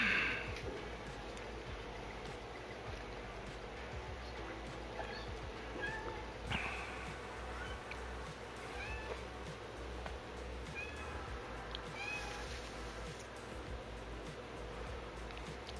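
A pet cat meows for attention with a few faint, scattered cries over a constant low indoor hum and light clatter.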